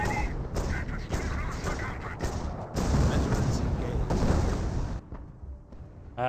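Artillery barrage in Company of Heroes, a dense, loud rumble of booming shell impacts and blasts rolling continuously, then thinning out, with someone talking over it.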